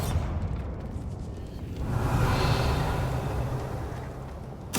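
A Bombarda blasting spell goes off in Hogwarts Legacy, a deep explosive boom with a rushing whoosh that swells midway and lingers in a rumbling tail.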